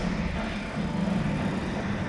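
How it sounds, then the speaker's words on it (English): Train ride in the Resistance 3 video game: a steady low rumble of rolling rail cars with broadband rattle and hiss, continuous and fairly loud for the whole stretch, no talking. "What you want to bet this train doesn't make it?"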